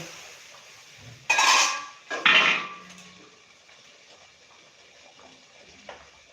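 The metal lid of a steamer pot cooking semolina dhokla comes off with two loud clattering clanks, followed by a faint steamy hiss and a soft tap near the end, with no voices.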